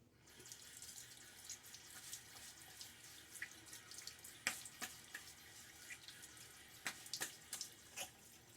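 Water runs from a bathroom tap while someone rinses after shaving, a steady hiss with irregular splashes and drips, close and alone.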